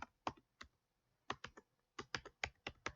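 Typing on a computer keyboard, a close sequence of crisp key clicks in irregular bursts with short pauses between groups, quiet and alone.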